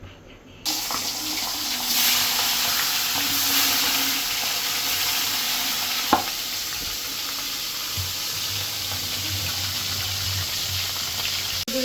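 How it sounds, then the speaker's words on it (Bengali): Hilsa fish frying in a pan for a home-style curry, a steady broadband hiss and crackle of hot oil running throughout, with a brief clatter near the middle and no speech. "বেশি মাছ বেশি ভাজতে হয় না"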